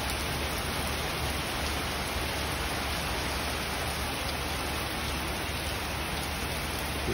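Steady rain falls in a natural outdoor setting where wild birds called tikling, a kind of rail, live; the sound is a continuous, even, dense hiss of drops hitting surfaces, loud and close, with no voices.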